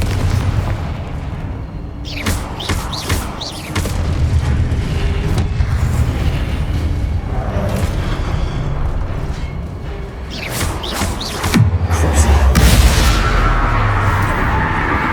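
Hogwarts Legacy Confringo fire spells burst in a series of loud, booming explosions, spaced irregularly across the span with crackling debris and a low rumbling tail, under a background of game ambience.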